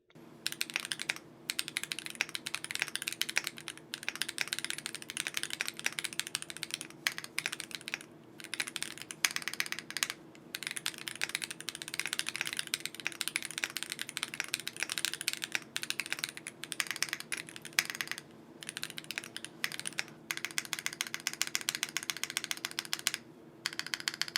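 Continuous typing on a Womier SK65 mechanical keyboard with a flex-cut 1.2mm PCB, a dense run of clacky keystrokes with brief pauses, close and moderately quiet.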